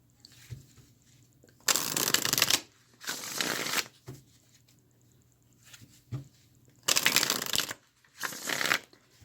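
A deck of cards used for a pick-a-card reading is shuffled close by in four separate riffling bursts, each lasting about a second, with quiet pauses between them.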